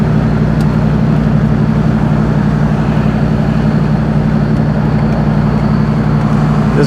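A 5.2-litre V8 in a Jeep ZJ with dual exhaust, air-gap intake and big throttle body, droning steadily at light throttle with a strong low rumble, close and continuous, no talking.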